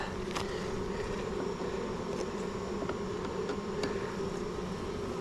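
Honey bees from backyard hives buzz in a steady, dense drone that holds throughout, close and fairly loud, with a few brief sharper passes and no talking.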